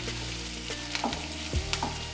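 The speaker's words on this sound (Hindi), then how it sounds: "देखिए इस तरीके से प्याज को हम पका लेंगे" Onions cook in a pan for a besan chutney, a steady close sizzle with a few light scrapes and clicks of stirring over a low background hum, and no one speaking.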